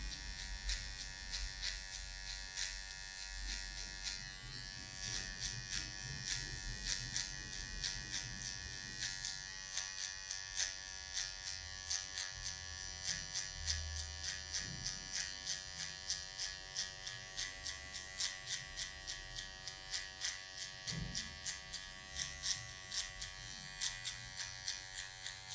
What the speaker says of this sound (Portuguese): Com a ponta da máquina de acabamento, vamos tirar essa marcação.